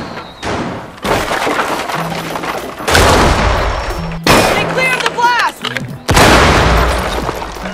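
Gunfire and impacts in the tactical shooter Rainbow Six Siege come as loud bursts and thuds separated by brief gaps, with in-game noise between them and players talking through the action.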